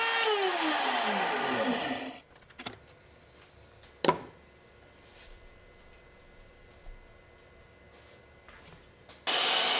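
A router table with a straight bit cuts slots in PVC on a sled: a loud whining motor spins down at the start, followed by quiet handling, a sharp knock, light bumps, then the router roars back up at the end.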